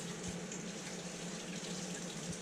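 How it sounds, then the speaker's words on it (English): Tap water runs in a steady, even hiss into a sink as a hand is rinsed under it while making fruit roll-ups, quiet and constant with no talk. "I'm just gonna rinse off my good hand"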